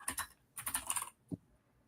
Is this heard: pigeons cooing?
no